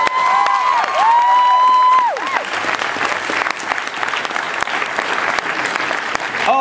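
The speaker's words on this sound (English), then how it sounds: "Everybody, big round of applause for Russ Cundiff." A crowd at a New York Comic Con panel claps loudly with cheers and a few high whoops rising over the start, then the applause continues steadily.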